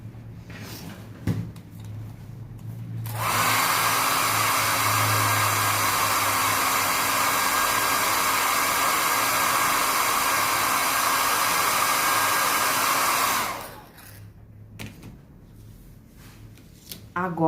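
Hair dryer blowing steadily for about ten seconds to dry paint on a plaster piece, a loud continuous whoosh with a constant motor whine that switches on and then cuts off, with quiet handling noises before and after.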